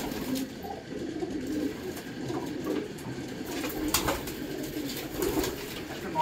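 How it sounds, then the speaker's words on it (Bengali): Breeding pigeons kept at home coo in low, throaty, repeated murmurs close by, overlapping softly with some rustling and faint background noise. "তো আজকেও সেরকমই কিছু পায়রা দেখাবো"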